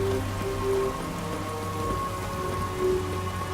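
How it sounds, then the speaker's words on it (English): Steady rain falls in a stormy scene from The Witcher 3, a dense even patter with a low rumble of thunder rolling underneath, no voices present. "it's thundering and raining, and here in the same time"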